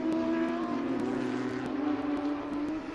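Race cars at Sebring, including a Lamborghini Huracan, drone past at steady speed in a continuous engine roar, somewhat distant, with a commentator talking over it.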